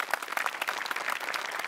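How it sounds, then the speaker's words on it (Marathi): Audience applause at a Marathi TV comedy show, a dense steady wash of clapping from a studio crowd lasting under two seconds, with no talking over it. "ते सचिनसाठी आणि विनायकसाठी टाळ्या"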